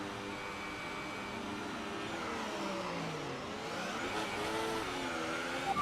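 Race car engines drone steadily on a formation lap at the Australian round of a racing video game, with pitch slowly rising and falling as the cars weave and a brief sharper burst at the end.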